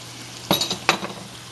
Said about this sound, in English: now we're going to add into this mixture that salami